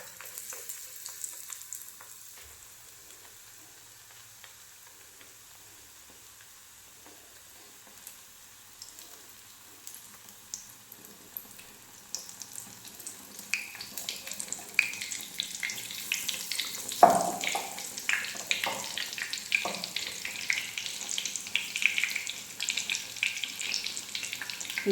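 Brinjal and potato bajji fry in hot oil with a soft, steady sizzle that grows busier and louder partway through, mixed with light clinks and stirring.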